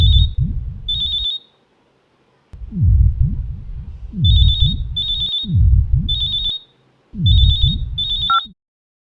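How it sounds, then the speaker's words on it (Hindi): A telephone rings in loud, repeated electronic bursts, pairs of shrill tones separated by short pauses, heard alone in a tense horror-drama scene. "उस दिन जब फ़ोन की घंटी बजी"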